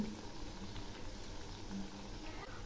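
Poppy seed fritters (posto bora) fry in hot oil, giving a soft, continuous bubbling sizzle at low volume with no talking.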